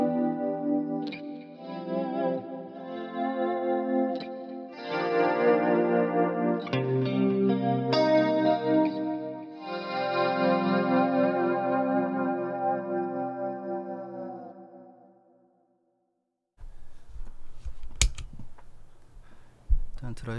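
Electric guitar through an Origin Effects RevivalTrem tremolo pedal: chords and notes ring with a wavering, pulsing effect, sustaining and overlapping, then fade to silence before a few muted scratchy strums.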